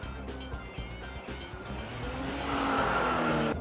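A 2010 Kia Soul driving on the road, its engine and tyre noise a steady broadband rumble that swells louder toward the end, with no voices over it.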